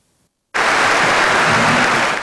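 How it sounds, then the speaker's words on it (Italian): Dense, loud applause from a crowd celebrating couples' golden and diamond wedding anniversaries in Padova, starting abruptly after a brief silence and holding steady to the end. "Un lungo applauso per celebrare il loro amore"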